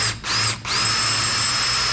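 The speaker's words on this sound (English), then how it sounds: "We're going to finish drilling this hole." Power drill boring a hole into cast iron ahead of welding a crack, a loud steady high whine that briefly dips twice early on, then runs on continuously and close.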